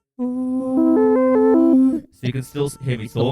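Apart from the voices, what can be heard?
RC505 MKII auto riff effect at 50 balance over voice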